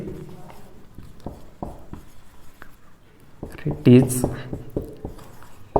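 Marker or chalk writing on a board during a Hindi science lecture on evolution, a series of short scratchy strokes and taps in irregular rhythm, close, with the teacher speaking over parts of it.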